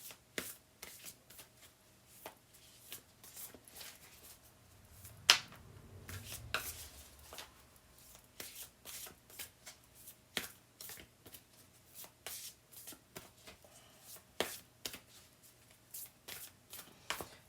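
A deck of tarot cards being shuffled in repeated crisp riffles and taps, quiet and close, with a brief thump partway through.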